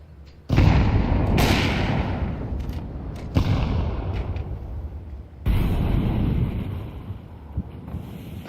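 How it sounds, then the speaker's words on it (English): An incendiary grenade in Counter-Strike 2 bursts loudly and close, its roaring, windy fire hissing steadily, then flares again in two more loud surges. "Throwing fire. Throwing a grenade. Incendiary."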